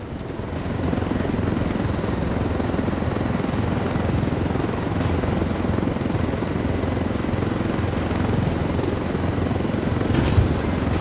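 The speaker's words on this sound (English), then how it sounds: "This helicopter is proof of what the Russians are up to." A helicopter flies in the video game Ghost Recon Wildlands, its loud, steady rotor drone going on throughout with no talk over it.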